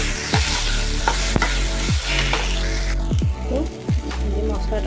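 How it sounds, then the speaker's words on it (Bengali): Chili and turmeric powder stir-fried in a pan for a Bombay duck dish, a steady sizzle broken by several scraping sweeps of a spatula, with a voice speaking intermittently over it. "এই যে এর মধ্যে এবার লঙ্কা গুঁড়ি আর হলুদ গুঁড়িটা আমি দিয়ে দিচ্ছি। এটা একটু কষিয়ে নিয়ে"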